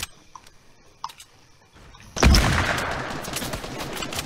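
Video-game gunfire in a Fortnite match: a couple of faint single clicks, then a sudden loud burst of rapid shots that settles into a dense, sustained rattle of fire.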